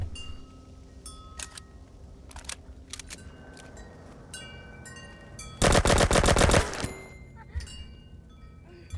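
Gunfire from the video game Tunguska: The Visitation: scattered sharp clicks and shots, then a loud burst of rapid automatic fire lasting about a second, followed by quieter clinks and game noises.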